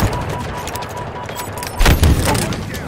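Gunfire in Halo Infinite: a burst of rapid shots with a heavier thump near the end, heard amid game ambience and battle noise.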